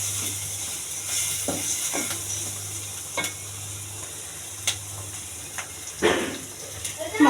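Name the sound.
mixing ground spices with salt in a pan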